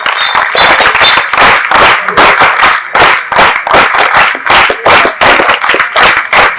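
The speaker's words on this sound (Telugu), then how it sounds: "ఒకసారి చప్పట్లు కొట్టి జయజయలు పలకండి." A large crowd claps loudly and continuously, a dense, crackling wave of applause with no voices.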